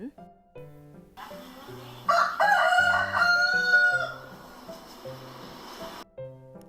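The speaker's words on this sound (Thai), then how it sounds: "เสียงไก่ขัน" A rooster gives one loud, drawn-out crow in the middle, with soft, steady backing tones running underneath from start to finish.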